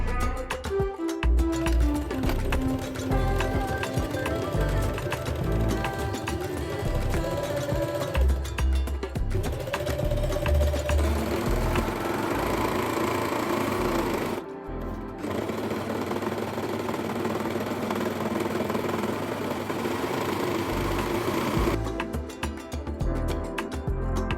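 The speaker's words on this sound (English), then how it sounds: "Sew the two pieces together around the edge of the pocket bag." Sewing machine stitching the pocket bag of pleated wide-leg pants, a steady continuous motor hum and needle chatter running almost throughout, with a couple of brief pauses and no speech.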